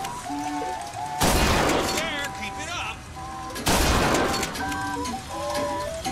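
Two heavy blasts of shotgun fire in the game Bioshock Infinite, each a loud burst followed by game music and effects, with a player speaking between the shots.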